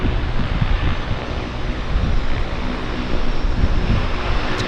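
Twin Otter plane landing at Vancouver's downtown harbour airport, a steady, loud, broadband rushing roar mixed with wind buffeting on the microphone, with no break in the noise.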